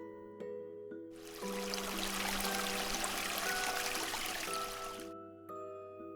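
Water rushing and pouring indoors in a Cookie Run fantasy game setting, a broad steady hiss that swells in, holds for several seconds, then fades, over sustained musical tones and soft chimes.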